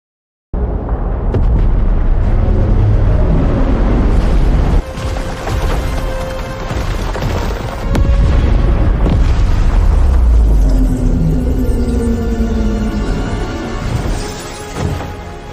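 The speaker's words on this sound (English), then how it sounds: "Look at the explosion detail." A loud AI-generated explosion with flying debris booms out, followed by a long, heavy rumbling roar with crashing and crackling textures that keep the level high for over fifteen seconds after a short silent start.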